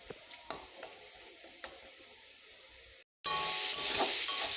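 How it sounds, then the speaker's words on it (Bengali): Onion, garlic and ginger paste with coriander and cumin powder fries in a pan. Soft sizzling and occasional scraping stirs give way, after a brief pause, to a louder, fuller hiss of sizzling. "মশলাটা ভালো করে কষে নিচ্ছি"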